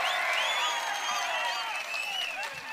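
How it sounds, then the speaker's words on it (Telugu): A crowd at a political rally breaks into sustained, even applause, a dense wash of many hands clapping at once that holds steady for the whole stretch with no speech over it. "గెలిపిస్తామని గట్టిగా చప్పట్లు కొట్టి మీ హర్షాన్ని,"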